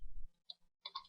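Typing on a computer keyboard while working in a spreadsheet: a few faint, sparse key clicks close by, with no talking.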